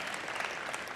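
Steady applause from a keynote audience at GitHub Universe 2018, a dense wash of clapping with no voices on top.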